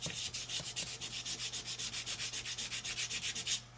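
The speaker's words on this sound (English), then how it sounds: "I cut a small piece of the 400 grit sandpaper, and I'm just going to try and get through this surface oxidation." Small piece of 400 grit sandpaper rubbed by hand over surface oxidation on a rear window defroster tab of a 2015 Tahoe, steady rhythmic back-and-forth scratching strokes, close and fairly quiet, with a faint low hum underneath.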